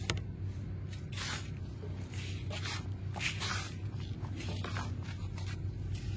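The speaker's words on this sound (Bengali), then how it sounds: "তো মাটিটাকে একটু ভালো করে মিশিয়ে নিই গোবর সারের সঙ্গে" Soil is mixed by hand with cow dung manure for a rooftop garden bed, giving quiet, irregular rustling and squishing scrapes in short bursts with a low steady hum beneath.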